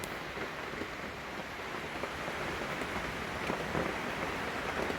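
Heavy rain pouring steadily on a spring day in Korea, a dense, even hiss of drops on surfaces that holds constant throughout, with no voices.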